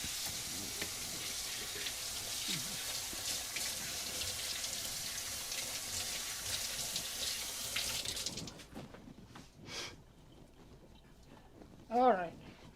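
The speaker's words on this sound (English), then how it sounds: "So I just want to wash my hand" Hands are washed under running kitchen tap water while chili chicken is being cooked, a steady close hiss of flowing water that stops partway through, followed by faint clatter and brief talk.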